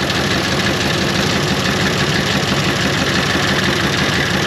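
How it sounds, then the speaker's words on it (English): Fuel pump on a 1930 International fire truck pumping diesel, a steady, loud mechanical drone with rapid knocking pulses, continuous and close throughout. "Pumping diesel fuel"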